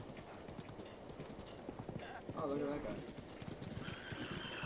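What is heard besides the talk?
horse neighing and hooves clip-clopping in The Legend of Zelda: Breath of the Wild video game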